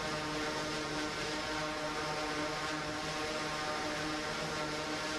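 An overactuated quadrotor UAV flying just after takeoff in a flight test, a loud continuous buzzing whine of propellers with steady hum tones, unbroken and close.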